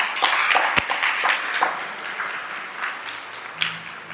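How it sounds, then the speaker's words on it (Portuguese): Church congregation applauding during a service, a burst of loud clapping with sharp individual claps that thins and fades over a few seconds. "Pode aplaudir o Senhor."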